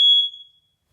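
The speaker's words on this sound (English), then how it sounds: "smoke detector needs new batteries" A smoke detector needing new batteries gives one short, piercing high chirp that cuts off quickly and fades into silence.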